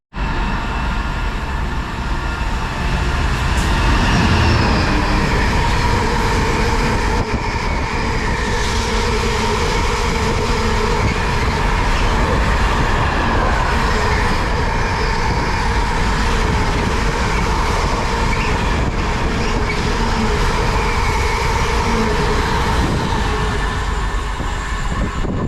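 A freight train hauled by a class 66 locomotive in Ukraine livery rumbles through a West Coast Main Line branch station, a loud, steady roar of wagons and rail noise sustained for the whole stretch with no talking.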